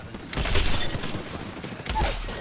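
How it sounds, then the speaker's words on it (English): A knuckle cluster weapon fires in a video game, letting out two loud, crackling bursts of rapid explosive pops with mechanical clatter. The second burst comes a moment after the first dies down. "Knuckle cluster firing."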